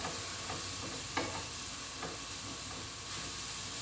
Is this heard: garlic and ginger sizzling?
yes